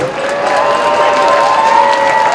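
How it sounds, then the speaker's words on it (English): Audience at an Asian Pacific American Council of Georgia event applauds and cheers the women dancers after a stick dance, a loud, continuous wash of clapping with sustained voices mixed in. "One more round of applause for the ladies"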